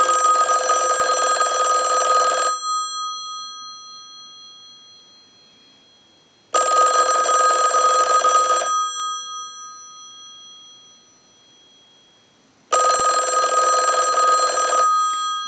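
A repaired Western Electric ten-key telephone rings through its ring cycle on a shop bench: three loud bursts of clanging bell, each about two seconds, separated by long fading pauses.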